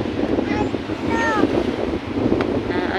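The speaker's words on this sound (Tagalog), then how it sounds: "Ano na, sagwak na ang hangin. Ang hangin, ang alon." Strong wind roars steadily against the microphone while ocean waves surge and wash along a shore in the aftermath of a typhoon, a continuous loud rushing with faint higher tones drifting through.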